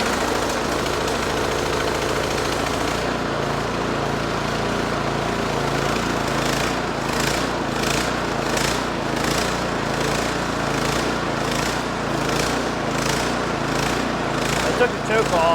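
A Husqvarna snow thrower's small engine runs with the choke off, surging in a pulsing rise-and-fall rhythm over a steady low drone, fairly close and loud throughout.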